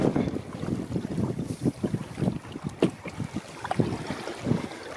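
Gusty wind buffets the microphone on a choppy Scottish loch, Loch Shiel, while canoeing, with irregular rushing bursts and water slaps against the canoe, fairly loud and close, with no talking.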